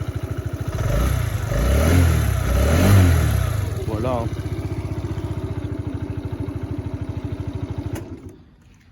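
A Peugeot Kisbee 4T 2020 scooter with a four-stroke engine idles quietly and steadily, its low, even putter running under brief speech before cutting off near the end.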